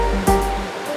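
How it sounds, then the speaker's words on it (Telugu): A rain-fed stream surges down from the hills near Penchalakona Waterfalls in Andhra Pradesh, giving a steady, close rushing roar of flowing water. "ఈ వర్షానికి చుట్టూ కొండలపై నుంచి వచ్చే నీళ్లు వాగులోనికి హోరెత్తుతున్నాయి."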